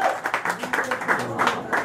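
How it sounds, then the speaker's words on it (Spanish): Applause from the audience at a year-end contest show, a steady patter of clapping hands with fluctuating bursts throughout, fairly close and fairly loud. "Fuerte aplauso para la señorita Cuarto Oscuro."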